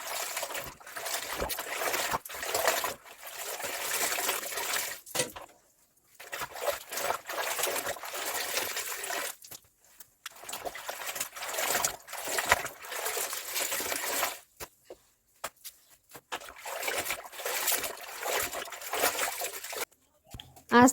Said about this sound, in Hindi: इसीलिए पहले आज कपड़े धो ले रही हूँ।